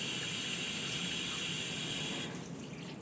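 A bathroom hand shower runs with a steady, close hiss of spraying water, then the flow softens and thins near the end.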